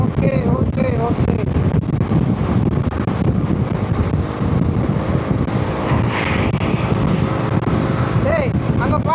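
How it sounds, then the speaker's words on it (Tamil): Strong wind roars and buffets continuously at around 100 km/h on a road trip from Melmaruvathur toward Villupuram, a dense broadband rush filling the whole stretch, with voices talking faintly underneath. "ஸோ நம்ம ஸ்பீடு 100 வந்துட்டோம், பட் காற்று பலமாக அடிக்குது."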